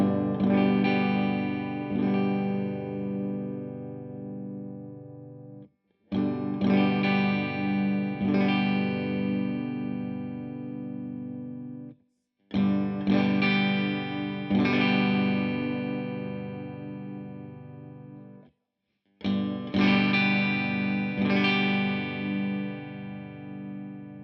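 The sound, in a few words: electric guitar through Laney Lionheart L20H tube amp, treble turned down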